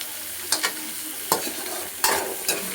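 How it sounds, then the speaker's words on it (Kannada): Radish for a curry fries in hot oil, giving a soft continuous sizzle broken by several sharp scrapes and clacks of a spoon stirring the pan at irregular intervals. "ಇದನ್ನು ಎಣ್ಣೆಲೆ ಸ್ವಲ್ಪ ಫ್ರೈ ಮಾಡೋಣ."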